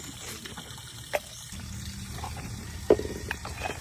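Water runs and splashes during dishwashing, a soft continuous trickle with a few sharper splashes and clinks of dishes, close and moderately quiet, with no talk.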